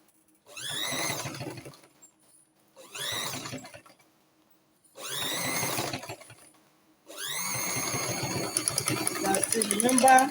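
A sewing machine stitches fabric for an off-shoulder corset with peplum and puff sleeves. It runs in four close bursts of rapid mechanical clatter separated by short pauses, and the last burst is longer and busier than the others.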